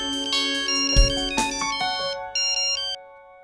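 A phone plays a bright, melodic electronic ringtone, a rapid sequence of chiming tones lasting about three seconds before it cuts off, with no voices.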